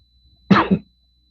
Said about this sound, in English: So you have to excuse the coughing.